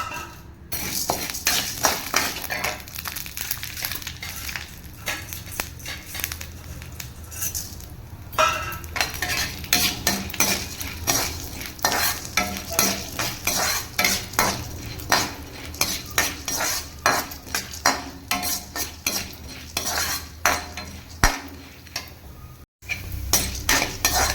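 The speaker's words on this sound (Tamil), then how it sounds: "எண்ணெய் சூடாகிட்டு கடலைப்பருப்பு சேர்த்துக்கலாம்." Chana dal is stirred in hot oil in a metal pan for curry leaf rice powder, with a spoon scraping and clinking steadily against the pan in a busy, continuous rhythm, close up and without talk.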